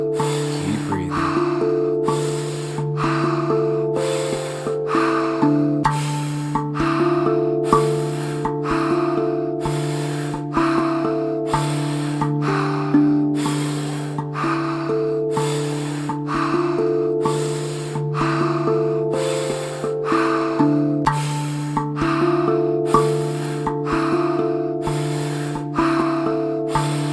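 Deep, steady breathing exercise with repeated rhythmic inhales and exhales over a sustained musical drone, the breaths evenly spaced and close.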